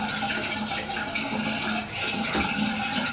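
Tap water runs steadily over a finger at a sink, a continuous close splashing hiss during face lathering with a shaving brush.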